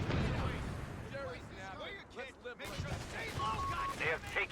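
Artillery barrage in the Company of Heroes 3 real-time strategy game, US forces battle: heavy booming blasts and rumbling impacts, loudest at the start and again near the end, with voiced talk running over them.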